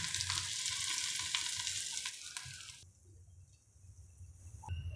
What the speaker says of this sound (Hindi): अब हम इसे तड़का लगाएंगे।